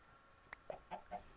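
A chicken in a video game gives a few short, soft clucks spaced irregularly over about a second, quiet against a faint background.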